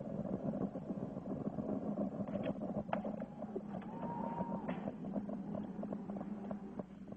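Space Shuttle Columbia's engines on the 1982 STS-4 launch give a faint, distant, steady rumbling roar with crackly texture, heard alone without talk.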